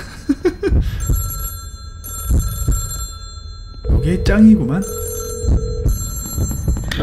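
In a Baldi's Basics mod set in a high school, a telephone bell rings in repeated electronic bursts with pauses between them, loud against a player's excited chatter and game sounds.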